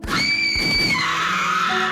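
A loud, piercing scream in an audio drama, rising sharply and then held for about two seconds.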